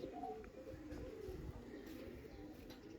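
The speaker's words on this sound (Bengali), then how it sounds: "এটা বসিরা কবুতর" Bosira breed domestic pigeons coo faintly in a loft, low murmuring calls over a constant background hum with no voices.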